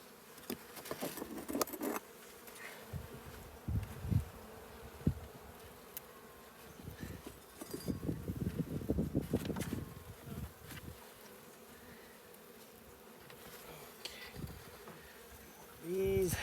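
Honey bees buzz around an open hive during an inspection, a close, wavering drone that swells and fades, broken by occasional clicks and knocks from handling the frames.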